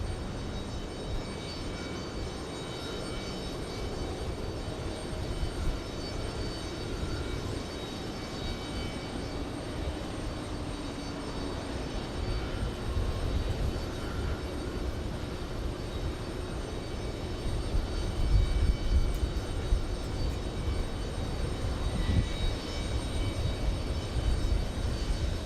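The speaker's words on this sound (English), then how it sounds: "We have JetBlue flying to Amsterdam. It's a big one." A big JetBlue jet airliner bound for Amsterdam at JFK airport gives off a steady, broad engine roar that holds at a moderate distance and swells a little toward the end, with no voices over it.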